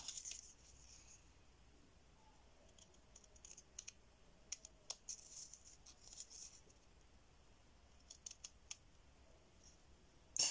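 Cardboard being cut away while making a cardboard box, heard as a string of short, faint scissor-like snips and clicks spread unevenly through the clip, close by against a quiet background.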